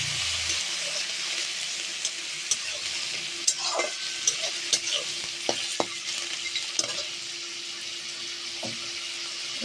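Prawns and lentil dumplings fry in a pan while being stirred, giving a steady close sizzle broken by sharp spatula clicks and scrapes against the metal at irregular intervals.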